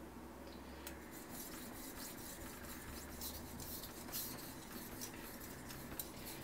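A knife is sharpened on a wet Shapton Pro whetstone, giving a steady, close, gritty rasp of steel scraping across the stone. It continues without pause and without talk.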